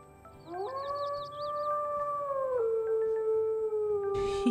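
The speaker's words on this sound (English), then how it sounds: "Our first howl in the new place." A wolf howl in the video game WolfQuest on its Hellroar map: one long, clear, rising and then sustained howl that drops near the end, heard alone against a quiet background.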